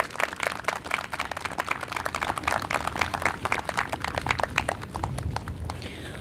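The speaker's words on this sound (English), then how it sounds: "Can we give them another round of applause?" An outdoor audience at a flag raising ceremony in a park applauds, with sharp, uneven claps from a modest crowd, some hands close and distinct, sustained for several seconds.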